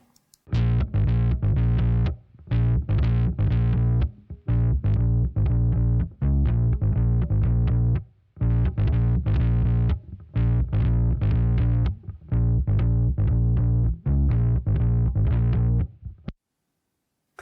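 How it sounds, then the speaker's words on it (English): Fuzz guitar driven into an 1176 compressor with all buttons pressed in, giving thick, saturated distortion; a riff of chugging, sustained chords with short gaps, loud and upfront throughout with no talking. "you can really hear the distortion that you get out of an 1176 with all buttons in"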